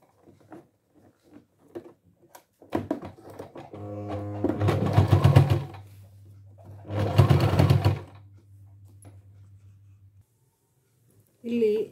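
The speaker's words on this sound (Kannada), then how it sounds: "ಇಂಥಲ್ಲಿ ನಾವು ಜಿಗ್ಜ್ಯಾಗ್ ಹೊಲಿಗೆ ಹಾಕೋದ್ರಿಂದ ಅದು ಸಹಿತ ಒಂದು ಬಾಳಿಕೆ ಬರಲಿಕ್ಕೆ" A sewing machine runs in two loud bursts, stitching a zigzag seam, with steady motor hum and rapid needle rattle. Speech and handling noises come before and between the bursts.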